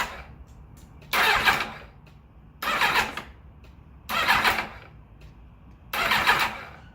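A Kawasaki ZXR750 Turbo motorcycle engine cranking over on a new battery, four separate starter bursts of about half a second each, evenly spaced with quiet pauses between, close and loud.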